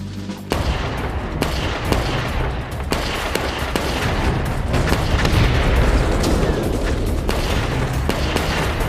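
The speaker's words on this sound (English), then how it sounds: "Winters kick-started the attack with a small arms barrage" A barrage of small arms gunfire from a World War II attack in France, including carbine shots: dense, continuous loud bursts and cracks with booming low rumble, alone and without talk.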